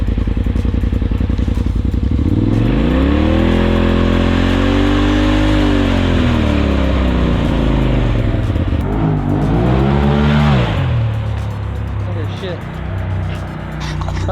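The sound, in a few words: Polaris RZR Turbo engine revving with aftermarket blow-off valve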